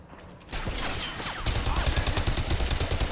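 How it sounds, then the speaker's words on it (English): Gunfire from the shooter video game Bodycount: a dense, continuous spray of rapid shots with overlapping bursts and impacts, loud and close, starting after a brief quiet lead-in. "who else is shooting at me?"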